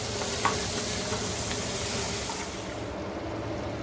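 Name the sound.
sauce with basil being stirred in a pan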